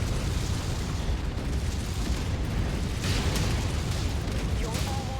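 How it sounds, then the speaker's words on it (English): Rumbling barrage of SRM missile explosions hitting buildings in the MechWarrior 5 video game, a dense continuous roar with sharp bursts layered on top, loud and sustained throughout. "Time to go chain fire on the SRMs."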